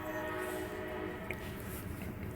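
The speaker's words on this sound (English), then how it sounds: "Those trains are always so annoying." A train passing with its horn sounding, a steady, loud tonal blare held over a continuous rumble of rail noise for the whole stretch.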